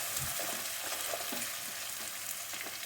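Chopped onion sizzles steadily in hot oil with curry leaves and ginger-chili paste, a close, continuous frying hiss with soft stirring scrapes, cooking for batata poha.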